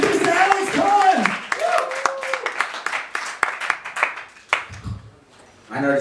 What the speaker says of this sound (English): Give a round of applause for Hammy Studio.